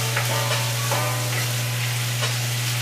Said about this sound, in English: And you want to make sure you cook your meat.